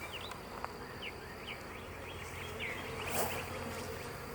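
Honey bees buzz softly at an open hive during an inspection, a faint continuous hum with scattered individual bees whirring past nearby, no talking.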